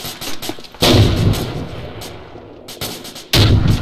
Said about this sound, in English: I'm gonna put a frag into the building